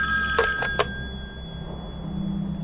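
An old telephone bell rings in a radio-style audio drama, giving two or three short, bright rings close up before fading into quiet room tone.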